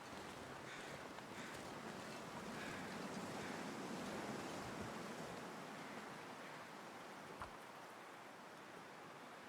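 Steady wind blowing in the survival video game The Long Dark, a faint, continuous rushing noise with no other clear sounds.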